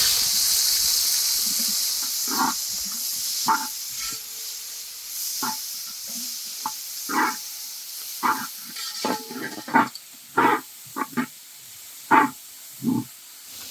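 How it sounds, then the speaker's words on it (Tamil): Two large chopped onions fry in oil for a Madurai-style chicken kurma, giving a steady sizzling hiss with intermittent clinks and scrapes of stirring throughout. "ஒரு ரெண்டு வெங்காயம் நல்லா பெரிய வெங்காயமாக எடுத்து கட் பண்ணி சேர்த்து"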